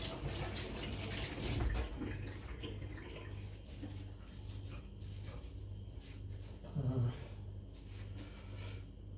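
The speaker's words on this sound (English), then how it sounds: "I'm just going to rinse off my hands." Water runs quietly from a tap while someone rinses their hands during flower arranging. It is a soft, continuous trickle with a faint voice in the background.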